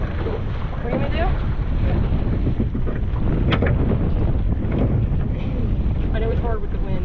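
Wind buffeting a microphone aboard a crabbing boat out on the water during a snowy winter blue-crab trip, a steady loud rumble that lasts the whole stretch, with voices talking over it.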